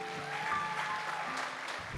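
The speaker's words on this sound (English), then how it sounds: "So please, round of applause for you guys." An audience applauds teachers with a steady burst of clapping that holds at an even level throughout.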